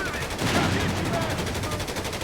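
Rapid automatic gunfire from the Company of Heroes 3 war strategy game, a steady, loud stream of shots with battle noise filling the background throughout.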